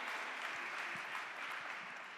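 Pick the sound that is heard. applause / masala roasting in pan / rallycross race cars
applause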